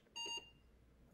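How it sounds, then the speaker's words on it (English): Electronic beeps from an Apple II computer signalling a disconnection, a quick bright burst of tones near the start followed by quiet. "3 beeps means it disconnected."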